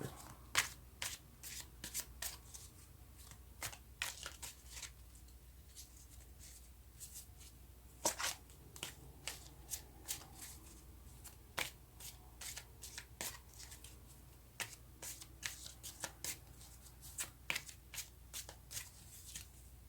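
Tarot cards are shuffled by hand in a quiet room, a long run of crisp riffling bursts and soft slaps that repeat at an uneven pace with short pauses between them.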